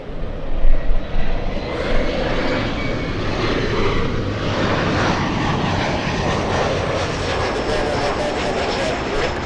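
A big Japan Airlines jet airliner bound for Haneda roars loudly at Los Angeles airport, a dense, sustained engine rumble that swells at the start and then holds steady.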